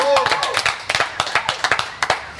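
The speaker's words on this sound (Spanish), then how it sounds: "Un aplauso para ellos." A small audience at the New Beats Stage claps in scattered, uneven bursts for a rock band. The claps are close and distinct rather than a dense roar, with a voice briefly heard at the start.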